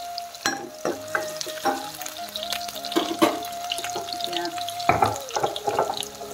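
Onions half-fry in a generous pour of oil in a wok, a busy close-up sizzle broken by frequent clattering stirs and scrapes.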